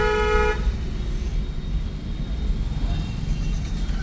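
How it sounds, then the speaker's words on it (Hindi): A long, continuous car horn blares at close range for about half a second over steady night-time market street noise and engine rumble, then cuts off while the traffic din carries on. "लॉन्ग हॉर्न पुश करो, कंटिन्यू लगातार।"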